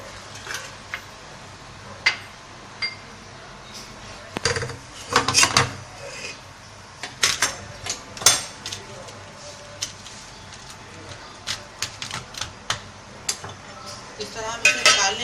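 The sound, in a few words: halwa scooped from pot into ghee-greased dish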